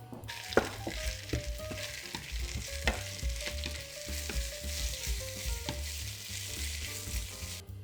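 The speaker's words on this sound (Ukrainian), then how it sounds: "Отже, ми потушкували чесничок, чесничок із шпинатом." Garlic and spinach stew in a pan for lasagna, a steady close sizzle with repeated clinks and scrapes of a utensil stirring the greens throughout.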